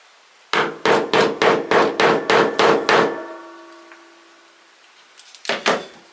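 Hammer striking a hole punch to make holes for magnetic clasps, nine quick, sharp, evenly spaced blows with a ringing tail, then a pause and two more strikes.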